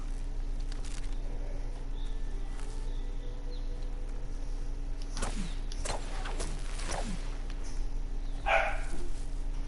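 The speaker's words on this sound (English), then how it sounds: "Sorry if you can hear the puppy barking in the background" A puppy barks in the background, a few scattered yaps at mid-distance over a steady electrical hum and low game sounds, with no talk.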